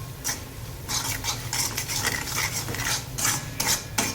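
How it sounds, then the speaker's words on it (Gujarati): Spice masala being roasted in a pan with the gas off and stirred, a series of scraping, rattling strokes of spoon against pan in irregular bursts, fairly quiet and close, with no talk. "ગેસ બંધ રાખીને જ આપણે મસાલો સરસ આપણે શેકીશું"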